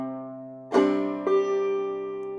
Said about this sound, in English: we're just going to do a basic clawhammer strum on the low fourth string